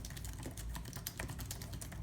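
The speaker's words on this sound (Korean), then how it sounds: "제가 이 윈도우 태블릿으로 타자 연습 속도 재보면은 보통 한 500타 정도 나와요" Fast, steady typing on a cheap Bluetooth keyboard paired with a Windows tablet gives a dense, continuous patter of quiet key clicks, recorded close.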